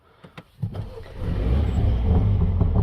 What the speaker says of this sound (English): can you hear that popping? You get a pop at the start and then it goes quiet.